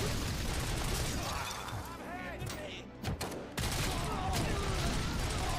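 Rapid video-game gunfire from RoboCop, dense bursts of shots packed close together, loud and almost continuous apart from a brief gap in the middle.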